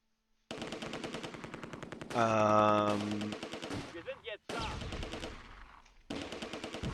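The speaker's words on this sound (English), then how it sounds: "Okay, 88's firing in the 2-story now." Repeated heavy gunfire from an 88mm gun in the Close Combat II World War II strategy game, a dense run of rapid shots and bursts with brief gaps, loud and close throughout.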